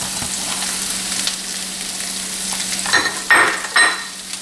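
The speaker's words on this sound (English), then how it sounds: "Then I'm gonna let this basically saute." Red peppers and onions sauté in a pan, a steady broadband sizzle running throughout, with a few louder bursts of stirring and hissing near the end.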